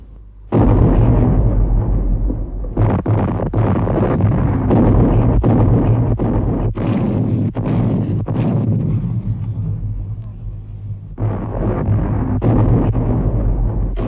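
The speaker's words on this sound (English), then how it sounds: "For 3 hours, the German heavy guns ranged on Verdun itself." German heavy artillery bombardment, including a Krupp 15-inch naval gun firing on Verdun, heard as repeated loud booming blasts and rolling rumble, dense and continuous with short gaps, no talking.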